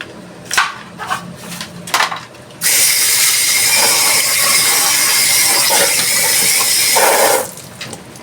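Knife chopping pechay (bok choy) into small pieces for ginisang pechay, a few distinct cuts at first, then a long steady rustling, crunching stretch up close before it stops abruptly.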